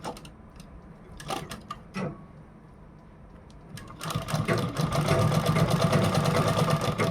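A sewing machine runs a straight seam on a V-neck designer blouse, starting with a few sparse clicks and brief bursts before settling into a loud, steady, rapid stitching whir from midway on.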